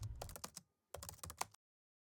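Quick bursts of typing on a Mac keyboard, close light key clicks in two short runs separated by a brief pause, then silence.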